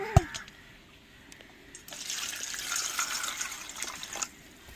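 Water from a tap runs into a container of tamarind set to soak, a steady moderate pour that builds after a short quiet start, with a few clinks at the beginning and end.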